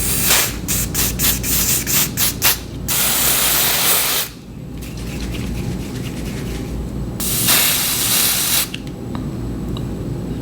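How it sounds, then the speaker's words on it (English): An aerosol can sprays onto hair just behind the natural hairline at the edge of a half wig, with a run of short bursts followed by two long, loud, close hissing sprays. "I'm gonna spray right behind my natural hairline, like in between the wig and the natural hairline."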